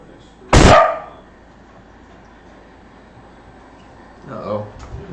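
A single loud, close dog bark bursts out early, followed by quiet room noise and a few softer vocal sounds toward the end.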